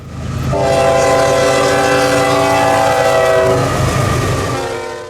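Northbound freight train Q038 hauling juice and containers passes close by, its horn blaring in long sustained chords over a loud, steady rumble of rolling cars.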